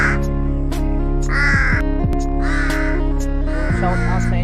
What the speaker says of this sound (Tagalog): Yung mga nagtatanong kung umuwi ba yung alaga ng uwak, so dito na sila ngayong umaga na to